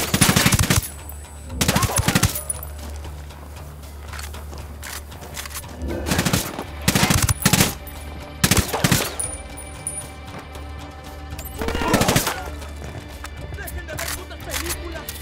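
Gunfire in the video game Ghost Recon Wildlands, with repeated loud bursts of automatic fire separated by short lulls and game voices talking between them.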